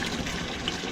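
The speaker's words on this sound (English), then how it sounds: "we're going to open up the low water cutoff," Water from a steam boiler's low water cutoff drains in a steady, fairly faint gushing trickle that keeps going without a break.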